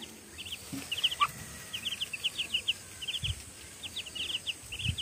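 Small chicks chirp and cluck in quick scattered bursts over a low rumbling background, fairly faint and continuous throughout.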